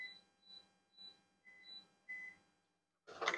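An air fryer beeps repeatedly in short, evenly spaced tones, fairly quiet, followed by a brief burst of clatter at the end.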